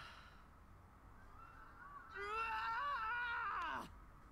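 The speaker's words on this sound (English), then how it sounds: "Screaming." A high, wavering scream rises over faint background noise in Kingdom Hearts III, swelling suddenly and holding for under two seconds before cutting off with a falling tail.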